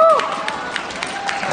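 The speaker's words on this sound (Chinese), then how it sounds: "拜托大家都给他们鼓励的掌声" An audience at a stage event for the Hoa Thụ basketball club idol group breaks into applause: a steady patter of many hands clapping at a moderate distance, with a brief tonal sound at the very start.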